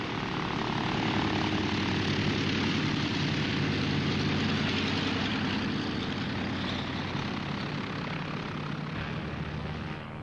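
A 1951 United Airlines mainliner propeller airliner pulls away from gate 4 at Chicago Midway, a loud, continuous, droning engine roar filling the whole stretch with no talk.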